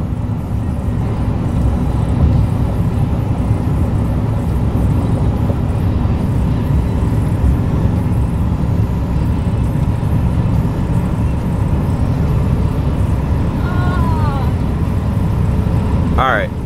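A 1997 Chevy K1500 Silverado engine roars steadily under hard acceleration toward 100, a loud continuous drone with road noise from inside the cab while people talk over it.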